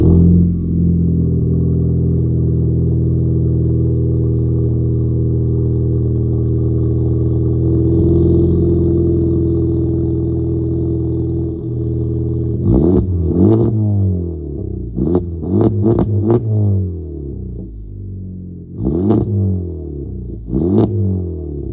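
2018 Honda Civic Type R turbocharged engine held at a steady high-RPM drone that eases off, followed by a string of sharp blips and revs rising and falling, loud and close with no talk.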